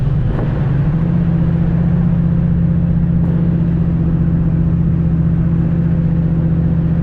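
Turbocharged SN95 Mustang with a 76mm turbo on E85, engine droning loud and steady close to the microphone, a low constant roar after a brief rise at the start, without obvious breakup.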